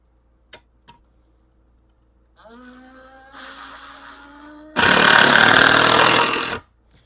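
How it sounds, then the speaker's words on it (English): A power drill sinks a screw into a big sycamore log, a rising whine that climbs in pitch, then a loud, dense grinding burst for about two seconds before stopping abruptly; a few faint taps precede it. "I'll sink a screw in there."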